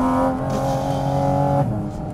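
A Porsche GT4 RS engine sings from inside the car while driving, a loud, tonal high-revving howl that holds steady then drops off sharply near the end as the revs fall.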